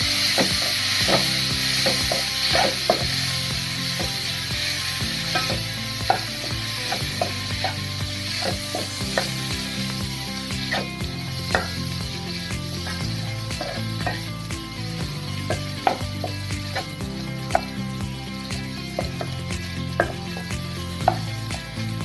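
Tomatoes fry in oil in a pan for dum aloo, a continuous close sizzle broken by frequent scraping stirs and spatula clicks, with music playing underneath and no talking.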